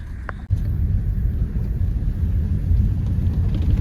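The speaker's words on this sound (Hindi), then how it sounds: "बारिश भी आ रही है ना भाई।" Steady, heavy rain drums on a parked car at night during car camping in the Jim Corbett forest, a dense continuous wash with a sharp knock near the start and no talk.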